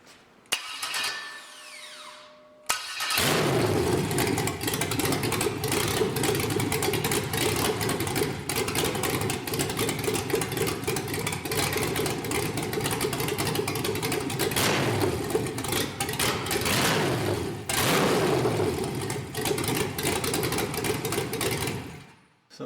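A 5.3L LS truck engine running on a MegaSquirt 2 setup cranks briefly and catches, then idles loud and close with a rough, steady drone for about twenty seconds before shutting off.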